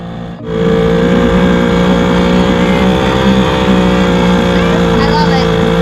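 A loud old 1970s air-cooled outboard motor drives an inflatable boat across a harbor, its steady buzzing drone running continuously after a brief start, close and dominant throughout.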